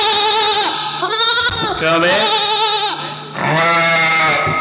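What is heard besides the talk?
goats bleating near police station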